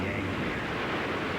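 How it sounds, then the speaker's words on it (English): Rough, continuous roar of churning water and wind, loud and close, with no clear separate wave breaks. "Seas will be angrier."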